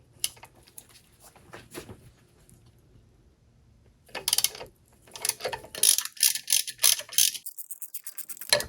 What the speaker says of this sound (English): I've got my extension, ratchet, and the 5mm bit here. We are going to remove this rear mount.